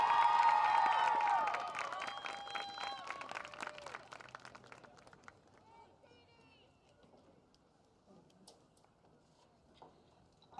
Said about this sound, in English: Let's give a big cheer for number 5, Sadie Miller.